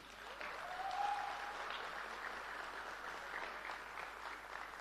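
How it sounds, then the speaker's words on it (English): An audience at the launch of a scooter built in Belgavi claps and cheers in a dense burst of applause that starts strong, then thins slightly but keeps going to the end. "Can we have some claps, please?"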